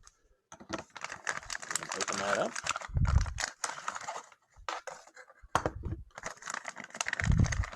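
A sealed plastic bag holding an Esee 4 S35VN knife is torn open and handled, with crinkling bursts and sharp rustles between short pauses; a voice speaks in parts.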